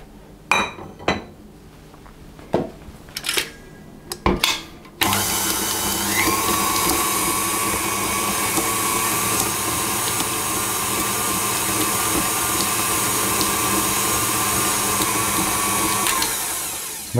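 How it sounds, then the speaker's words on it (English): Electric mixer creaming butter for a lamington cake batter: a few sharp clinks of beaters and bowl first, then a loud, steady motor whir running close and unbroken for over ten seconds, with no voices. "So the first thing to do with our cake mixture is to cream our butter."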